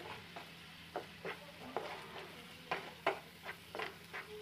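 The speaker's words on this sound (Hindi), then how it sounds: "इसको अच्छे से फ्राई कर लेंगे।" Spices with cumin powder frying in a pan for butter paneer, a soft sizzle beneath repeated light scraping strokes of a spoon, fairly quiet and close.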